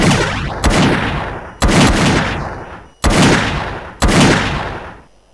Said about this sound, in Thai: นี่นะครับคือการเบิ้ลปืน